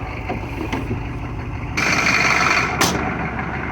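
A Chevy 6.5 diesel truck engine idles steadily with a low rumble after an injection pump replacement, then grows louder and rougher midway, with a brief high-pitched squeal near the end.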